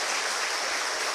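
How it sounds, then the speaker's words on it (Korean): A church congregation applauds its worship team, producing a dense, continuous wash of clapping from many hands, full and close, with no voices standing out. "우리 한번 박수 격려해 주시기 바랍니다"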